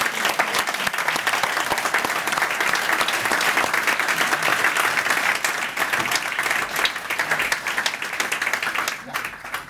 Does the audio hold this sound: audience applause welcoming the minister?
yes